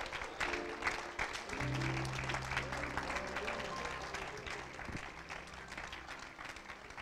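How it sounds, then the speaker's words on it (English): A church congregation bursts into sustained applause, many hands clapping together loudly, with scattered voices and a held tone underneath before it gradually tapers. "let's give him a hand clap of praise."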